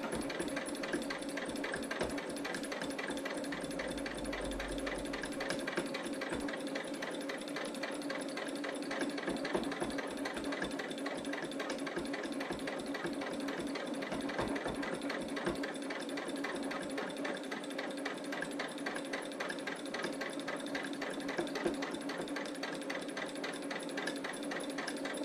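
Steady, even whirring of a sewing machine quilting straight lines along tape on a Christmas stocking, running continuously at a moderate level for a long stretch with no voices.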